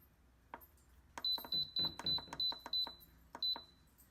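Instant Pot electric pressure cooker beeping as its manual mode is set for one minute, a series of short sharp beeps following button presses, with soft clicks and handling sounds in a quiet kitchen.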